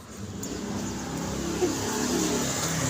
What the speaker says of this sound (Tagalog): Marami pumapasok na kotse.